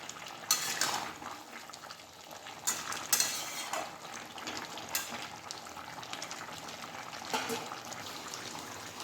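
Vegetable curry being stirred and mashed in a pan, a mixed five-vegetable vegetarian dish, giving intermittent scraping and clinking of a utensil against metal with soft wet squelches, fairly quiet and close, with no talking.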